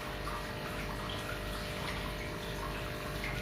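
An aquarium filter pump runs underwater in a tank being cleaned, giving a steady, even wash of water noise with a low constant hum, continuous and unchanging throughout.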